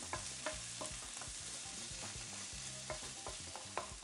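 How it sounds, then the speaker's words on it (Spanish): Pasta with sobrasada being stirred in a hot pan, a steady sizzle of frying with repeated scraping strokes of a utensil against the pan, close and alone without talk. "Removemos como siempre."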